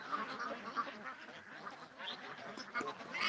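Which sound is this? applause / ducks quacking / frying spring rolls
ducks quacking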